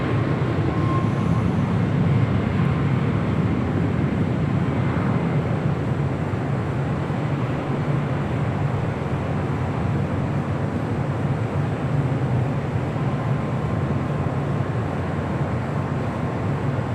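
A Delta Air Lines Airbus A330neo bound for Paris at LAX produces a steady, loud jet engine roar that holds unbroken for the whole stretch, with a broad low rumble and no voices.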